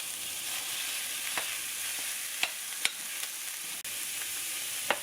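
One pound of ground chuck beef frying in a lightly oiled pan, a steady close sizzle with a few sharp pops and spatula scrapes against the pan.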